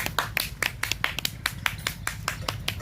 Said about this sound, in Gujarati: તાળીઓના ગળગળાથી વધાવી લઈએ કરશનભાઈ કાકરીભાઈ ને